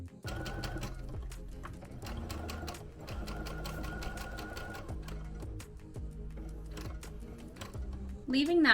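Sewing machine stitching fabric while making a beginner plush toy, a steady mechanical whir with rapid needle clatter running almost continuously, a brief pause near the end, and a voice talking over it.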